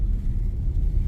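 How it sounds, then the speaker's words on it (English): A zoo parking lot shuttle bus passes outside, a steady low engine rumble heard from indoors with the windows and doors closed, continuous and moderately loud throughout. "that's the zoo bus"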